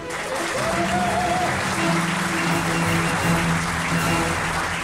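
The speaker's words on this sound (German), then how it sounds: "Applaus" A crowd applauds steadily after a short talk on exile literature, a continuous loud patter of many hands with faint sustained tones running underneath.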